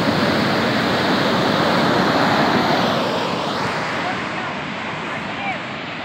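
Ocean surf at Huntington Beach, California, with high waves, roars as a loud, steady wash of breaking water that fills the whole clip and eases slightly toward the end.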